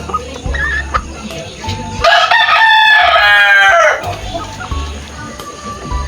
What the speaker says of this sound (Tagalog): Ito si SBR o Super Brown Red o sa Tagalog pa ay Alimbuyugin.